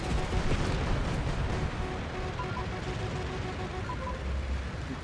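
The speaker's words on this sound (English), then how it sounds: "Oh, the cannons are nice. Oh, I like these cannons." Aircraft cannons fire in the jet combat video game Metalstorm. The sound is a dense, continuous rattling roar of rapid shots, fairly faint, with no talking.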